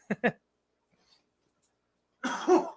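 Two short, sharp coughs up close, then quiet, followed by a rougher burst of coughing or throat clearing.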